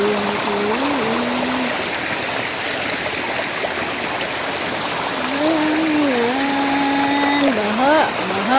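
Floodwater rushing through a swollen creek, a loud steady broadband roar filling the whole clip, with a voice speaking intermittently over the flow.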